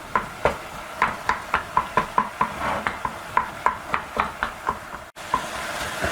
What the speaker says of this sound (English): Take a couple minutes and really stir these seasonings into the meat.